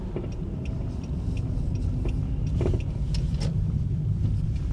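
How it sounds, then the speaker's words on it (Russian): A car accelerating on the road during a driving lesson, heard from inside: low engine rumble that grows slightly louder, with small clicks and cabin noises and no talking. "Разгоняй автомобиль."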